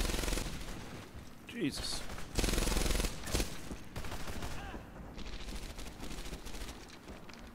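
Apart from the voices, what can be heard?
Thompson submachine gunfire in Medal of Honor Airborne video game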